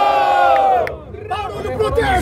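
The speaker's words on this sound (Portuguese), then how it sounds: "barulho pras rimas do Thiago! Barulho pras rimas do Kant" A crowd at a rap battle cheers and shouts in a loud, dense roar, with whoops and voices rising over one another and the noise dipping briefly before surging again.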